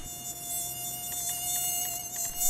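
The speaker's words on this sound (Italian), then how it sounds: "Dio, che nervi ste zanzare" Mosquitoes buzz in GTA Online on Xbox One, a steady high-pitched whine that holds close and loud throughout, with a few faint clicks and a brief burst of noise at the very end.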